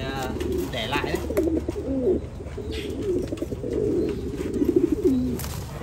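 Pigeons in a loft coo in repeated low rolling phrases, close and clear over a faint background hum, with a few softer calls mixed in.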